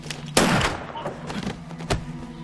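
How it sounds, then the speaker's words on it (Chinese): A gunshot from a war drama set aboard a river boat cracks out sharply, followed by a second fainter bang about a second and a half later over low ambient hum. "你怎么开枪了？"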